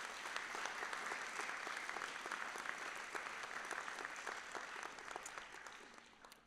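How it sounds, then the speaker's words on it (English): Audience at a college fall convocation gives the faculty a steady round of applause, dense clapping holding for several seconds before fading slightly near the end. "Please, another round of applause for your faculty."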